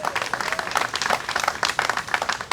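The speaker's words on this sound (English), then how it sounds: "please, another round of applause" Steady applause from a crowd at a press briefing in an art museum, dense clapping sustained throughout without pause.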